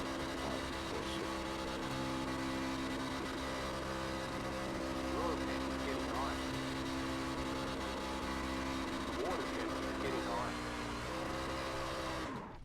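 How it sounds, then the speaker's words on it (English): A racing truck in iRacing doing a burnout at Dover, its engine held at a steady high-revving drone with shifting tones and a constant hum throughout, while voices chat faintly over it. "You can do such good burnouts here at Dover"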